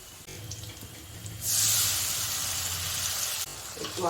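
Water is poured into very hot oil holding onion, turmeric and chilli powder, bursting into a loud hissing sizzle that holds steady for about two seconds before easing off, with a faint voice before and after.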